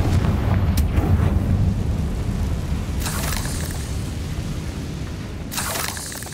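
Confringo blasting spell exploding in Hogwarts Legacy, a deep rumbling boom that fades over several seconds with a few sharp crackling bursts on top, loud and close.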